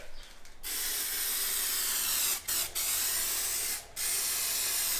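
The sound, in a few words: spray painting World Rally Blue paint on car part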